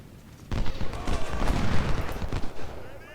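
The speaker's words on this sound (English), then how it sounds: "And down here we are exchanging fire." Musket volleys crackle back and forth in an Ultimate General: Civil War battle, a dense, continuous exchange of rifle fire bursting in sharply after a brief quiet start and holding loud throughout.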